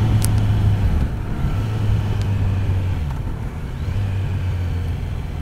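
A 2022 Kawasaki Z900 motorcycle with 125 hp on a test ride, a steady low engine drone with shifts in pitch as it downshifts, loud and close with wind rumble.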